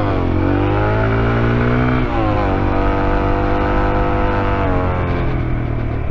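A conditioned Kawasaki KLX 140 RF motorcycle rides a winding road toward a hot spring, its engine droning loud and steady up close, with pitch rising and settling through gear changes and throttle shifts.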